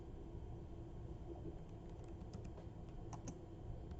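Light, quiet typing on a computer keyboard, a few scattered clicks over a low steady background hum, with no talking.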